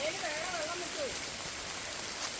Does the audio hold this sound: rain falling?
yes